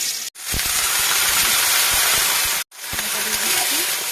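Garlic dropped into hot oil for frying pumpkin greens, a loud steady sizzle and hiss that cuts off briefly and then resumes, close to the pan.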